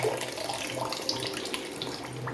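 Running water from a tap splashing steadily while amla and tamarind are rinsed, a close, continuous trickle with light splashes and no talk.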